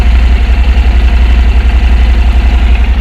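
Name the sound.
Honda NC700X motorcycle engine idling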